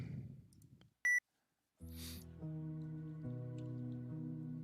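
A single short electronic beep sounds once, followed by a steady low mechanical hum that continues underneath.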